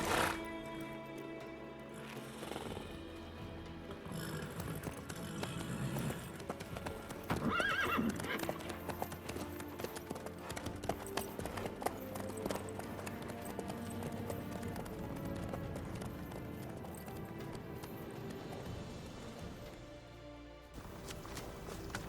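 In The Witcher 3: Wild Hunt, a ridden horse trots with steady clip-clopping hooves and gives a whinnying neigh, set against a continuous music score with no talk.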